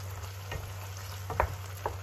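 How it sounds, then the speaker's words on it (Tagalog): Thickened escabeche sauce with dalagang bukid fish is stirred in a pan over a low, steady sizzle, with a few soft spoon scrapes and taps against the pan; no one speaks. "Kansahin nyo lang, guys. Ayan, lumapot na yung sauce natin."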